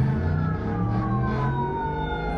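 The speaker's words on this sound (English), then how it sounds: "I'm trying to find where these sirens are coming from" Emergency vehicle sirens wail loud and close in winter street traffic, with several rising and falling tones overlapping continuously and heard from inside a car.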